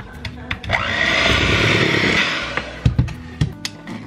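Cake batter with sour cream beaten vigorously with an electric mixer in a country kitchen, a loud whirring motor that ramps up, holds for about two seconds and stops, followed by clanks of bowl and utensil.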